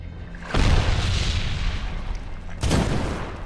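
Mortar shells in Medal of Honor explode in two loud, close booms. The first rolls out into a long rumbling tail, and the second hits about two seconds later, with no voices.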